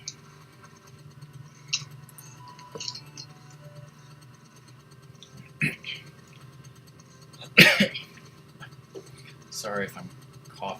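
Several short, sharp coughs or throat-clearing bursts come from a person during a late-night Wheel of Fortune-style game stream, scattered among faint background sounds, with the loudest burst near the middle.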